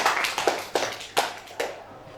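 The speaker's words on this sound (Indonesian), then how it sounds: "Tepuk tangan untuk kelompok 1." Applause from a group in a classroom-style session, greeting the first presenting group: scattered, uneven hand claps in a short burst that thins out and fades by the end.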